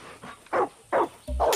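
Dogs bark in Far Cry 6, three or four loud, close yelps spaced roughly every third of a second, with no speech.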